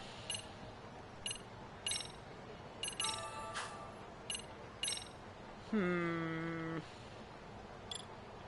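A phone rings in the video game Lost Judgment, a melodic electronic ringtone tone sustained for about a second, preceded by clicky menu beeps and short chimes against a quiet background.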